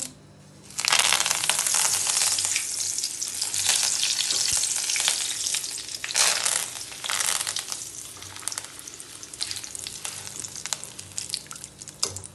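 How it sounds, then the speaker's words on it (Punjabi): Curry leaves dropped into hot oil for sabudana namkeen erupt in a loud, crackling sizzle that stays intense and slowly settles over several seconds, close up with no talking. "ਹੁਣ ਆਪਾਂ ਨਾ ਕੜੀ ਪੱਤਾ ਪਾਵਾਂਗੇ ਇਹਦੇ ਵਿੱਚ"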